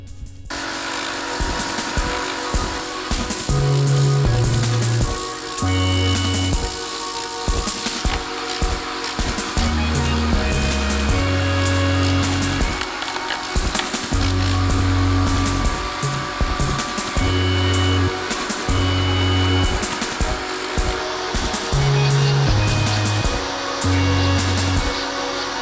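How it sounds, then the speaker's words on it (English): A vacuum cleaner runs steadily inside a Toyota Camry sedan during a deep clean, a loud continuous whine with shifting pitch and thumps as the nozzle moves across surfaces, no talking. "If you can tell as we're vacuuming this"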